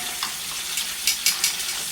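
Steak fries in a pan, cooking to medium, with a steady close sizzle and several sharper crackling spits rising above it.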